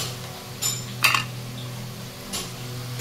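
Spices such as coriander, cumin and turmeric powder being stirred in a pan for prawn curry, with a low steady hum and a few sharp metallic clinks of a spoon against the pan, no talking.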